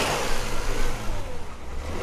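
A Kia Stinger engine revs hard in sports mode, giving a loud, steady, throaty roar that holds for about two seconds with no one talking.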